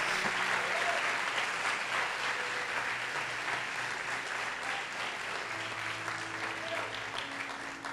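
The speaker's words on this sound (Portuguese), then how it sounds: "Você pode aplaudir o Senhor?" A church congregation applauds during a Portuguese-language worship service, steady broad clapping that fills the space, with faint voices and sustained tones beneath.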